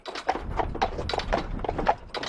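Horse hooves clip-clop in a brisk, even rhythm, about eight close, clear strikes in quick succession, during a grape harvest in Trausse-Minervois.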